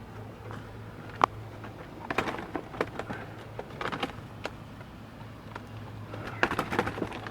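Low repeated cooing calls from large birds, with scattered rustling and soft knocks; a steady low hum runs beneath, fairly close and moderately quiet.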